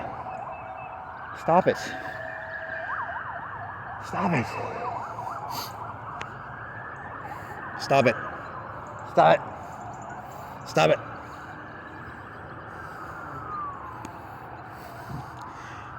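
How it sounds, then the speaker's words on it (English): Emergency vehicle sirens wail continuously from a distance near a highway, rising and falling in long sweeps, while a voice repeatedly speaks over them with a few sharp knocks. "That's a lot of goddamn sirens, man."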